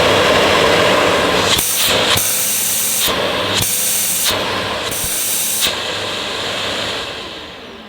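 A Hoover Evo Breeze vacuum runs with a loud, steady airy roar, its pitch jumping sharply several times as the end of the hose is blocked and unblocked in quick succession, then settling into a lower whoosh.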